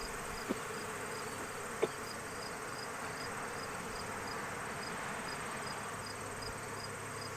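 Honeybees buzzing during a hive inspection, a steady dense drone of many insects close by with a couple of faint knocks.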